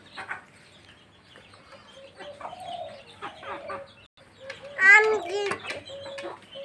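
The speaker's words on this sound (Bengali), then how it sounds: "এই দেখেন এটা আমার টাইগার মুরগি" Tiger-breed chickens cluck and squawk nearby, with a louder burst of calls midway, while a voice talks in the background.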